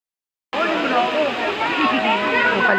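Waterfall at a summer outing spot, a steady broadband rush that starts abruptly and holds loud and continuous, with people talking over it.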